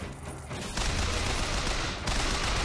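Gunfire from weapons in the video game Bioshock Infinite: a loud, dense burst of rapid shots that holds steady for a couple of seconds, then keeps going after a brief dip.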